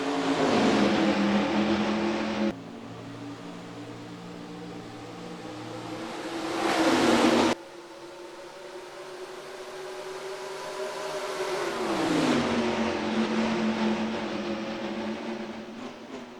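NASCAR stock cars racing at Rockingham in the NR2003 video game, engines droning and revving in long sustained tones that shift pitch through gear changes, with a car roaring closer and one loud engine dominating near the end.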